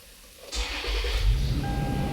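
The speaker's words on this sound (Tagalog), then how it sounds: "Tapos buhayin mo ulit ang susi o pandalian ka ng makina." A Toyota Fortuner engine cranks and catches after a brief quiet moment, then settles into a steady, close idle.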